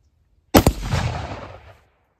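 A single sharp gunshot from a firearm loaded with a duplex powder charge, loud and close, with a second quick crack right behind it and a rumbling tail that fades over about a second.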